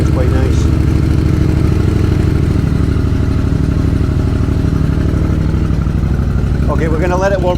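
A Yamaha MT-07 motorcycle fitted with a Musarri aftermarket exhaust idles loudly and steadily close by, a deep throbbing engine note running throughout, with a voice speaking briefly near the end.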